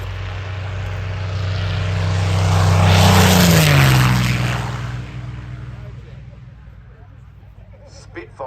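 Supermarine Spitfire LF XVIe World War II fighter making a low display pass, propeller engine roar swelling to a loud peak with a falling pitch as it goes by, then fading, with a voice talking faintly underneath.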